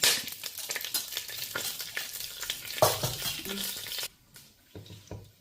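Cinnamon and fennel seeds sizzle and crackle in hot oil in a pan, a close, busy frying hiss that drops off sharply near the end, leaving only faint stirring.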